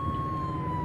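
A fire truck siren from the firefighting game Flashing Lights wails as one steady, continuous electronic tone through a short moment, with no talking over it.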